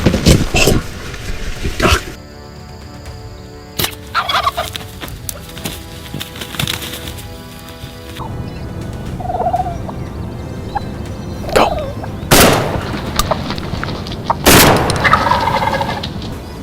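Wild turkeys gobble outdoors in several loud bursts spread across the stretch, with scattered cracks and rustling between them and distant bird calls underneath.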